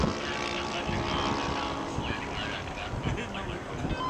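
A radio-controlled scale model airplane flies at an outdoor scale aircraft show, just after a roll and following a landing gear and fuselage repair. Its engine drones loud and steady throughout, with crowd and wind noise mixed in.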